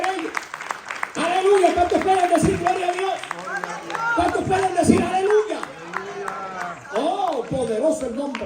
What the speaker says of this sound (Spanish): dale ese fuerte aplauso al Rey de Reyes